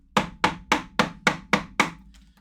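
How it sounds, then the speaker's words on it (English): Seven evenly spaced, sharp mallet strikes on a chisel carve into wood, each a crisp thwack with a short ring, close and loud with no talking. "let's see what we can get done today with the chisel"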